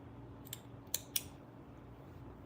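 Scissors snipping through fabric while sewing pockets, three quick faint sharp cuts close together, quiet and alone in a still room.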